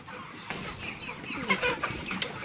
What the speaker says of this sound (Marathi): आपण आले कोंबड्यांच्या चाळीमध्ये तर हे बघा एवढ्या कोंबड्या